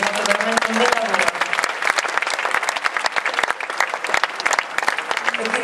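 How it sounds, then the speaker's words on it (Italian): Sustained, dense applause from a live concert audience, loud and steady throughout, with brief tonal traces of voices or instruments at the start and end. "un triplo applauso ancora al nostro Max, perché è stato veramente un bel lavoro."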